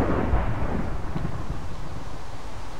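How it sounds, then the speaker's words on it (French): Rumbling thunder in a Minecraft rainstorm rolls on as a low, continuous wash of noise, fairly loud and with no talk over it. "Il pleut. Et en plus, il y a du tonnerre."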